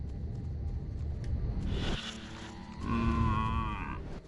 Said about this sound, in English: Scan a radioactive cow.